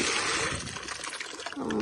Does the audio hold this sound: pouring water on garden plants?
yes